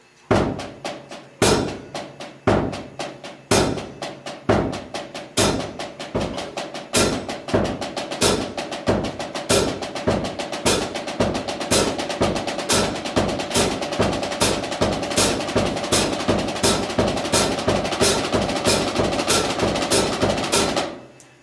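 Drum exercise played as 16th notes with a double stroke in the left hand, steady rhythmic snare and bass drum hits repeating evenly and loud throughout, played alone with no talking.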